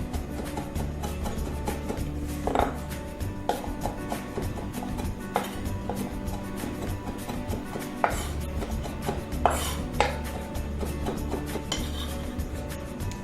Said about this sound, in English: A quick chop through.